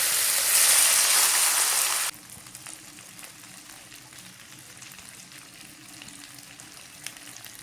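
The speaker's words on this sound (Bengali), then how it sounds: "খোসাগুলো সোনালি রং হওয়া পর্যন্ত ভেজে নিতে হবে।" Seasoned vegetable peels hitting hot rice bran oil in a kadai, with a loud hissing burst that cuts off after about two seconds, followed by a quieter, steady crackle and sizzle.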